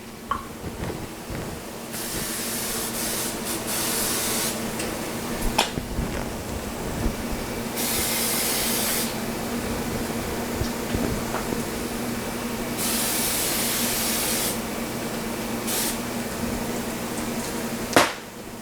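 Several short bursts of cooking oil spray hiss onto a patty press over a steady low hum, each lasting about a second, with a few light clicks and taps between them.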